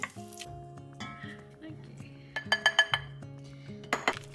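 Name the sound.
ham being lifted out of a cooking pot, pot clinking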